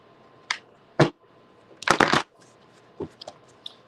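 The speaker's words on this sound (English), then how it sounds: "Let me quick shuffle real quick." A deck of tarot cards being shuffled up close, a few sharp riffles and flutters separated by brief pauses, with one longer burst in the middle.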